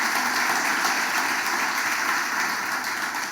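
A church congregation applauds during a Spanish-language sermon, a steady, dense wash of clapping that holds at an even level throughout, with no voices over it.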